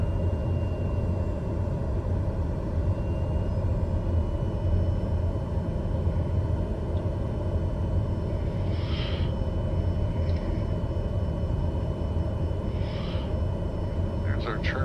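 A Daher TBM 930 turboprop taxiing after landing at Cold Bay, Alaska, gives a steady, loud cabin drone with a constant engine whine throughout, and a few faint brief sounds rising above it.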